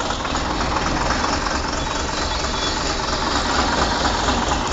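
A farm tractor's diesel engine, fitted with new injectors, idles close by with a steady, dense, knocking rumble that holds evenly and loud throughout.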